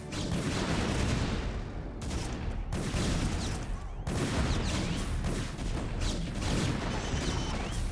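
Dense, continuous gunfire fills a StarCraft battle, with overlapping volleys and crackling impacts at steady high loudness and only brief dips.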